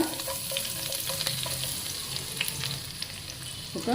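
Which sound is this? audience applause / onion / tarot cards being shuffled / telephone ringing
onion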